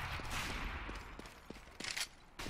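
Gunfire in a Counter-Strike professional LAN match between Fnatic and Titan, heard as a burst of sharp shots and scattered single cracks over steady in-game background noise.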